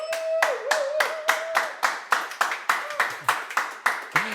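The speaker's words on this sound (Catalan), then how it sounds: "Fort aplaudiment per ell" Rhythmic audience clapping in steady beats, about two claps per second, with a sustained tone and brief sounds from a voice briefly overlapping at the start.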